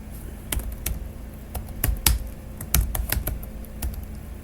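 Typing on a computer keyboard, a quick irregular patter of sharp key clicks with a few louder taps, close by against a quiet room.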